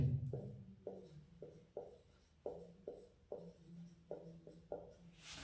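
Pen scratching out notes on paper in quick, evenly spaced strokes, each a short soft scrape close to the microphone, with no talking.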